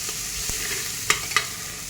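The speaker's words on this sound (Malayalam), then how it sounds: "ഒന്ന് വഴറ്റി കൊടുക്കുക" Sautéing in a frying pan, a soft steady sizzle with a few sharp clicks and scrapes of a spoon stirring against the pan, close up and without talk.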